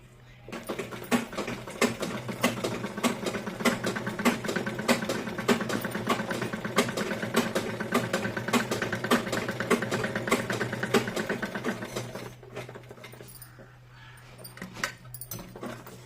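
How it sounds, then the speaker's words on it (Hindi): A sewing machine runs a line of stitching to set pleats on palazzo fabric, a fast, even mechanical chatter with a low hum underneath that runs continuously for about twelve seconds, then stops and leaves quieter handling sounds. "अब इसे उठा के 1 इंच की जगह छोड़ के सिलाई लगाऊंगी।"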